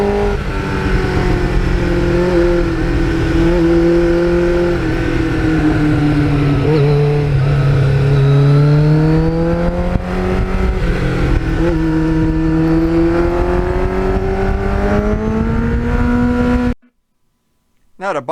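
A restored 1989 Kawasaki GPX750R Ninja motorcycle engine revs close by, its loud tone rising and falling in smooth sweeps over a continuous rumble before cutting out abruptly near the end.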